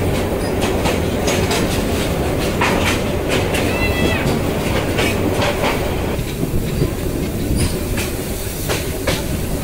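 A passenger train pulls into Mymensingh railway junction station in the rain, wheels clattering over rail joints with a dense steady rumble, brief high squeals and chirps rising above it.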